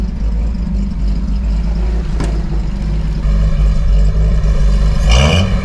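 Toyota Dyna ramp truck engine running loud and close, a steady rough rumble that rises in pitch as it is revved toward the end.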